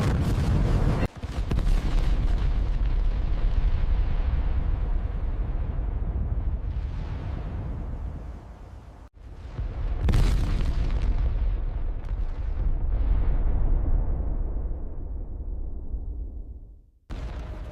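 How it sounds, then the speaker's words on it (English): A massive explosion erupts in a long, loud roaring blast, followed by a second heavy boom rumbling on, then a short pause and a further burst, all dense and continuous. "The physical reality of the blast arrives before understanding."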